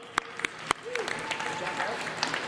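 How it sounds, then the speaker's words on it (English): Audience at a meeting of chiefs and councillors applauds the co-chairs, a moderate wash of clapping with a few sharp, close individual claps and a faint voice underneath. "Give them a round of applause, folks."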